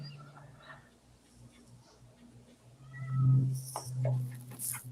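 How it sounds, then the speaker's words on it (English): A house cat meows a few times close by, short muffled calls over a low steady hum, with a brief sharper sound near the end. "I hear your cat."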